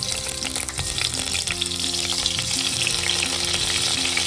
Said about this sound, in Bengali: তেলের মধ্যে পটলগুলো দিলাম, এবার আমি পটলটা সুন্দর করে ভাজবো